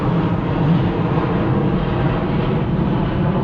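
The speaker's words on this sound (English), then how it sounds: "Aeroplane's up." Aeroplane passing overhead near a motorcycle test centre, a steady broad engine roar that stays loud and constant throughout, with no talking.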